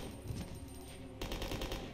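Rapid automatic gunfire from the video game Resident Evil Code: Veronica X, a steady rattling burst that swells louder after a brief shift midway, with no talking over it.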